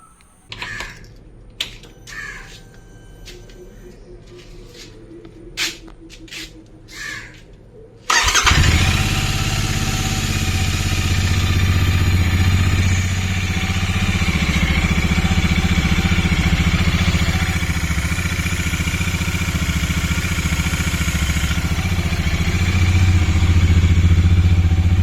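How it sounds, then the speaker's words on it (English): Royal Enfield Interceptor 650 motorcycle fitted with NGK spark plugs: a few quiet clicks, then the engine cranks and fires on a cold start, settling into a steady, fairly loud idle that continues to the end. "let's just do a cold start and check how the engine idles now"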